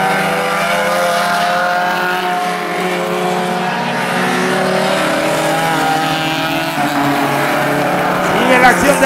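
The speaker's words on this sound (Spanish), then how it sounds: "Sigue la acción de la carrera en esta segundo hit de una emocionante final del automovilismo en Panamá" Race cars roaring around the track during an automobile racing final in Panama, a loud continuous engine drone with shifting pitch as the cars pass, under excited commentary.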